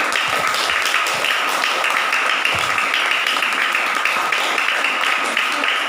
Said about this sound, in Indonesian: Tepuk tangan untuk Nabi Muhammad.